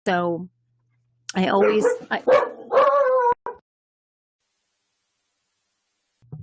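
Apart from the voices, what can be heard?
dog barking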